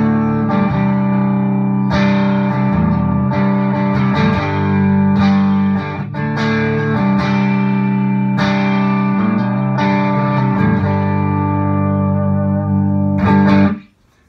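Electric guitar played through the neck pickup into a slightly driven amp with a bit of low rumble, chords and single notes ringing with sustain and reverb, close and steady, then stopping abruptly at the end.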